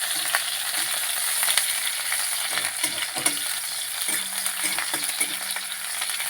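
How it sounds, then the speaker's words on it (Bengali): Chopped onion frying in hot oil in a home kitchen pan, a steady close sizzle with intermittent stirring scrapes and taps of a utensil, no talking. "পেঁয়াজটা ভালো করে লাল লাল করে ভেজে নেবো"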